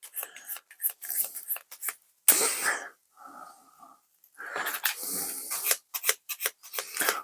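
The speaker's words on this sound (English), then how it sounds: "We'll just sand this bit here. We'll sand this bit and this bit" A Necromunda Ash Wastes terrain piece is sanded by hand, producing a close series of short, scratchy rasping strokes in uneven bursts with brief pauses between them and no talking.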